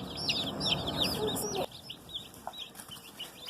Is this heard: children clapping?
no